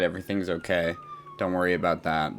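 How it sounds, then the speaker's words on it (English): Emergency siren sounding outside, a faint falling wail partly audible between speech; someone talks over most of it. "Don't worry if you can hear the sirens outside"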